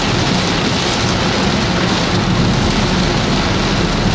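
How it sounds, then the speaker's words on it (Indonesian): Heavy rain pours on a moving Daihatsu Ayla during a highway road trip, a loud, dense, unbroken roar of water drumming on the car with road noise beneath. "Hujan deras di kilometer 131 nih."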